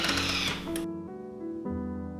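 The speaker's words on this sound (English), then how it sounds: "softening the butter by just creaming it on speed 5 until you can only hear the blades spin" Thermomix blades spin at speed 5 while creaming butter, a loud whirring churn that cuts to a cleaner motor hum with a steady pitch that steps up and down briefly.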